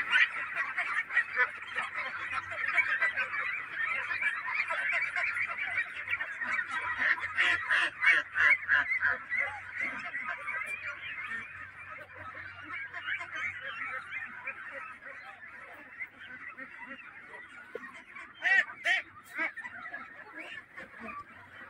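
Domestic ducks or geese kept in a shed out in the middle of a wide wetland, honking and calling continuously as a dense, steady flock, close and fairly loud, with a few louder bursts near the end.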